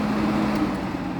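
A 1988 White-Westinghouse 7000 BTU window air conditioner running on high fan, a steady close whooshing hum with a low tonal drone and no change across the moment.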